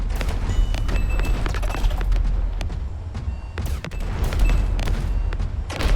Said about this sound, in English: you can actually see that we're really firing those bullets now